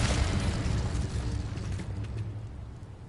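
Incendio fire spell cast in the video game Hogwarts Legacy, a broad fiery whoosh and rumbling burst that starts loud and slowly fades over a few seconds, with no voices.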